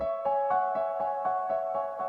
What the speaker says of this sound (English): you should set a gradual alarm clock